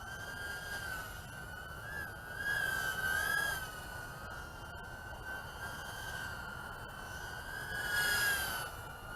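EMAX Tinyhawk II 75mm whoop FPV racing drone hovering on high throttle, a thin steady high-pitched motor whine that swells and wavers as the throttle shifts, heard alone with no talk.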